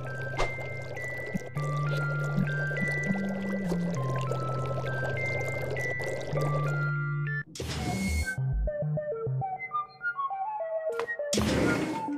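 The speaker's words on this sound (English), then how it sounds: "one pair of bellows full of water coming right up" Bellows fill with water in the cartoon adventure game Justin Wack and the Big Time Hack, a steady pouring stream over a tonal musical backdrop with bright jingly cues after it.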